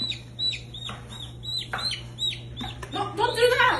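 A chicken, just brought out of its pen for fresh air, gives a run of short clucks and rising squawks close by, growing busier and louder toward the end over a steady low hum.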